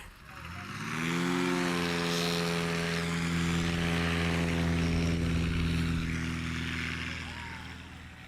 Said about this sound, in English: Warren Grobelar, 1955 Cessna 180